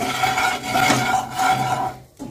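Turmeric, salt and spices stirred into oil in a pan over a low flame, a close continuous scraping and rubbing of a spoon against the pan that stops near the end.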